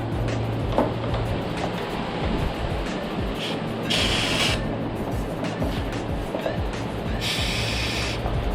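Starting fluid is sprayed into the carburetor of a seized Evinrude outboard motor, two sustained hissing bursts of about half a second each standing out over a continuous loud background noise.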